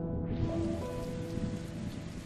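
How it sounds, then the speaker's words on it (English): Rain and a thunderstorm in the video game Hue form a dense, continuous downpour with low rumbling underneath, steady and fairly loud, with no voices. "There's a thunderstorm."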